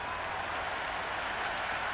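A cricket stadium crowd at an India versus South Africa T20 match applauds a boundary, giving a steady, dense wash of clapping and crowd noise with no voices standing out.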